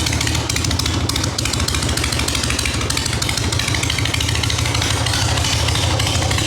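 A 1974 Harley-Davidson Shovelhead FX with drag pipes idles close by, a loud, continuous, rough, lumpy exhaust rumble with steady throbbing pulses.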